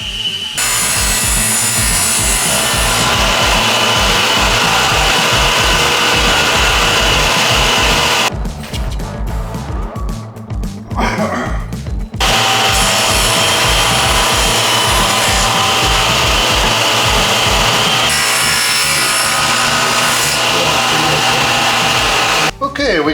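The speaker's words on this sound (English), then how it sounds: "We're going to go ahead and square it up, and square up the center part here on the table saw" A table saw squares up a mahogany end-table top with epoxy, a loud, steady whining cut running nearly throughout, broken by a short pause before cutting resumes.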